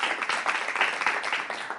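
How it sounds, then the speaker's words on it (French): Audience applause at a French-language reading competition event, a short dense burst of many hands clapping, steady and fairly close throughout. "Applaudissez pour vous-même, s'il vous plaît."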